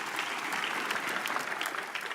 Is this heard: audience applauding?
yes